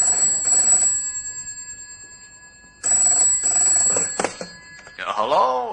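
An old-fashioned telephone bell rings in two bursts separated by a short pause, loud and close, and a voice starts right after the second ring.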